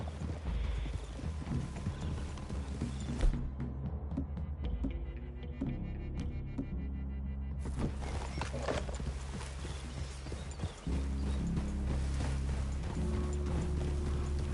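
Horses' hooves clip-clop in Red Dead Redemption 2, steady and fairly close over a dense, continuous game soundscape with a brief quieter stretch midway, occasional whinny-like sounds, and no talk.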